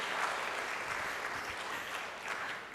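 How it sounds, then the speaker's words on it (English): Steady applause from a conference audience fills the room for TUM, a dense wash of many hands clapping at an even level throughout, with no voices standing out. "Clap for TUM."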